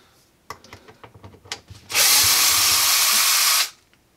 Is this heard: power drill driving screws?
yes